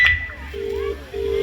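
A phone placing a call gives a short beep, then a sustained ringback tone that sounds twice with a gap between. Both tones are faint over quiet room noise.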